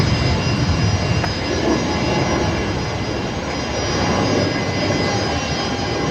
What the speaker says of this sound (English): There goes the A220 heading back down to Melbourne tonight.